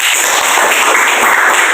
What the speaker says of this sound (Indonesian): Boleh tepuk tangan untuk Akila?